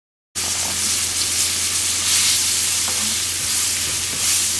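Ingredients seasoned with rosemary and fresh ground black pepper sauté in a pan for chicken Marsala, giving a steady, close, continuous sizzle and hiss with faint stirring noises.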